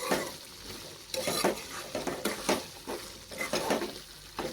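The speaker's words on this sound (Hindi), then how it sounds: "आपसे बात करते करते सारे टमाटर भी भुन चुकी हूँ" Tomatoes and green chilies for Hyderabadi tomato chutney roast in a pan while being stirred, with repeated scraping strokes and a soft steady sizzle throughout, close and moderately quiet, no talking.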